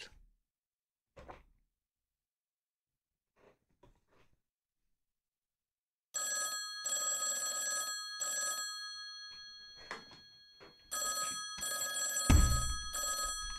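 A telephone rings repeatedly in Genshin Impact, bright electronic bursts starting after a quiet stretch with faint clicks, the rings loud and regular in pairs separated by short gaps.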